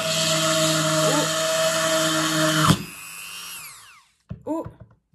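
A rotary tool's spinning blade grinding into a ceramic dish, a steady high-pitched whine that cuts off abruptly and winds down, followed by a brief voice, close up.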